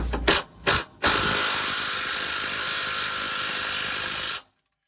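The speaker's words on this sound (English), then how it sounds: "This little Makita gun here is a great little piece, but she lacks some power." A Makita impact gun hammers on rusted transmission mount bolts of a second-generation Dodge Ram truck: two short bursts, then one sustained loud rattling run of about three seconds that stops abruptly, close up with no talking.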